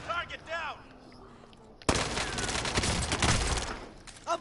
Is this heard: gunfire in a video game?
yes